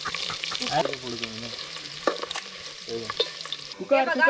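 Vegetables and whole spices frying in oil in a pan at a campsite, with steady sizzling and stirring scrapes throughout, and people talking close by over the cooking.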